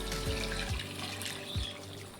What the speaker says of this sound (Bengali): আমি এখন গরম জলটা দিয়ে দেবো।